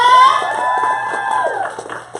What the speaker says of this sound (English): another applaud for Miss Alicia!